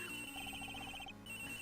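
A cell phone ringtone from the video game Ace Attorney Investigations 2 plays as a steady, repeating electronic melody with a regular pulse, fairly loud and close, with no one talking over it.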